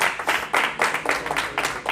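A church congregation claps in praise at a worship service, a dense run of hand claps pulsing in rhythmic bursts, moderately loud and sustained with no voices over it.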